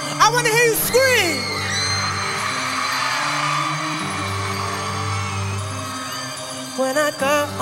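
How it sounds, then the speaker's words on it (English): Concert crowd at a 2013 show at the Greek Theatre in Los Angeles, screaming and whooping in a sustained roar under loud live music, with sharper whoops near the start and end. "I want to hear you scream"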